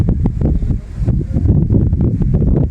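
Gusty wind blows in a stormy rural evening with lightning, rushing and buffeting the microphone in an uneven, loud roar with no voice.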